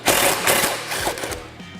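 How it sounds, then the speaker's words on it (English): A power driver fitted with a T27 bit backs screws out of the plastic seat base on a General XP 1000 side-by-side, a loud continuous whirring buzz that surges and eases in short bursts, heard alone. "We'll take a T27 and we'll go ahead and remove all 4 of these screws securing the"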